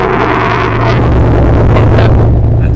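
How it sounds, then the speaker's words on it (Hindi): A loud, rumbling engine of a modified 1987 Daihatsu Charade with an aftermarket exhaust roars close by, its exhaust growling steadily with rough low-end pulses and some wind buffeting. "इसका जो साउंड है वो आपको मैं सुनाता हूँ। इसका एग्जॉस्ट जो लगवाया है,"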